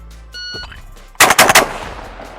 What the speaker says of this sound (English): I'm gonna just try to shoot this gun as fast as I can